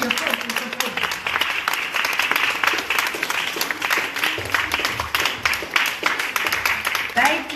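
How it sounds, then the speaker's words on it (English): Audience applause at an urgent care event as a speaker walks to the podium, steady dense clapping throughout with a murmur of voices underneath. "give him a round of applause as he approaches the podium"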